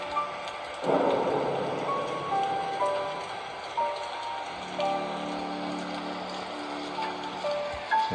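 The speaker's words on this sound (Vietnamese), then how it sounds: "Ngoài trời thì đang mưa và các bạn phải vào trong ngôi nhà này để tránh mưa." Steady rain pours outside a haunted house in a horror video game, with rolling thunder building after the first second and a dense wash of falling water continuing throughout, loud and close.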